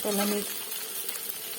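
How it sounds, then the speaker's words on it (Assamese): Beans and potatoes frying in leftover fish oil in a pan, giving a steady, close sizzling hiss throughout; a brief voice sounds at the very start. "মাছৰ তেল যিখিনি আছিলে সেইখিনি মই উৰহি ভাজি দিছোঁ"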